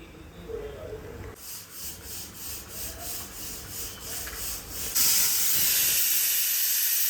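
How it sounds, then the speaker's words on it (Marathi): A steady sizzling hiss of cumin seeds spluttering in hot oil for a tempering, growing louder and harsher toward the end. "जिरं तडतडलं."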